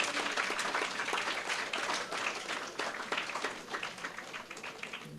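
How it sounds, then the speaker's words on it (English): An audience at a primary school spelling bee in St. Lucia claps in sustained, dense applause that slowly thins and fades toward the end. "Please give them a resounding round of applause."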